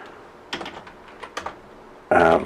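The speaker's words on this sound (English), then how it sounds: "typing too fast here" Quick, uneven clicks of fingers typing on a computer keyboard, close by, ending in a louder clattering burst of keystrokes.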